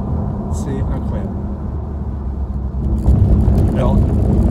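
A 2019 Porsche 911 992 S driving on French roads, its engine and road noise a loud steady rumble that swells toward the end, with someone talking over it.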